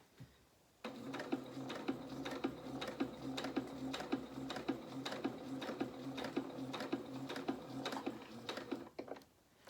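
A domestic sewing machine stitches fabric for a small head wrap, running in a quick, even mechanical rattle of needle strokes for several seconds before stopping, close and clear with no talk.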